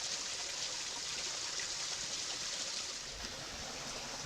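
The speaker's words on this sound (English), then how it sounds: "We can look down at our waterfall." A small waterfall along the C&O Canal near a culvert pours in a steady, faint broadband rush of falling water, continuous and unbroken, heard from nearby without talk.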